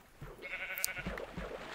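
A sheep in the video game Minecraft, Beta 1.4, bleats softly a few times, a faint wavering baa over a low, quiet game background.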